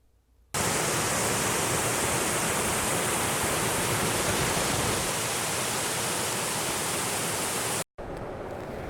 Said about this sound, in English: we made it up to the bottom of the Applecross Pass to this rather lovely little waterfall